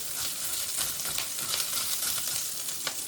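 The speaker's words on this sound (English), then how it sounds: "I'm frying up some of these grits" Grits sizzle and crackle steadily in a hot pan, a close, moderately loud frying hiss with small pops scattered throughout.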